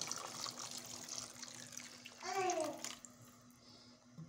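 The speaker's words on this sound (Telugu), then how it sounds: "1 కప్పు వాటర్ అయితే సరిపోతుంది." Water pours into a simmering tamarind fish curry made with ragandi fish, a faint steady rushing stream that stops near the end, with a brief voice in the background.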